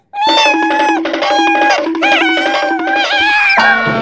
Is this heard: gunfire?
no